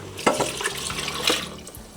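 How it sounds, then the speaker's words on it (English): Turkey stock is poured into a cooking pot of mushroom soup, a steady close splashing and gurgling of liquid that continues for the whole moment without a break, with no talk. "I am ready to add the stock."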